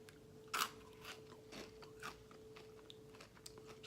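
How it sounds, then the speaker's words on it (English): Someone eats Chocolate Crunch and Cinnamon Crisp protein cereal, making faint, close crunching bites and chewing at irregular intervals. There is no talking. "the flavors I'm eating right now are Chocolate Crunch and Cinnamon Crisp"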